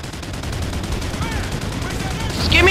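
A minigun fires a dense, continuous roaring burst in the Call of Duty Ghosts video game, loud and close, building in intensity toward the end.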